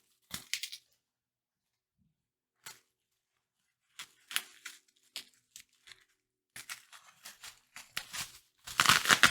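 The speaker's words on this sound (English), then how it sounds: "moving this away from the mic so you guys don't get totally destroyed by tape ripping sounds" Packing tape is ripped off bubble wrap packaging in short, sharp tearing bursts separated by pauses, building to a longer loud rip at the end.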